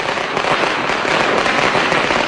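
Illegal firecrackers bursting in dense, continuous crackling, loud and close throughout, a steady barrage with no gaps and no voices.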